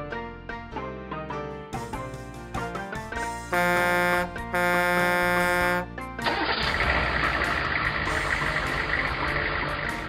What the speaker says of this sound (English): Wheel loader.